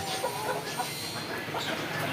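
Tiger chickens cluck in a busy flock on a farm in Bakshiganj, Jamalpur, overlapping clucks and calls blending into a continuous farmyard murmur.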